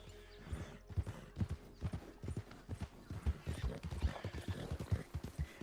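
A horse in the Red Dead Online video game, its hooves clip-clopping in an uneven walking rhythm, fairly close and moderately quiet, with a soft whinny mixed in.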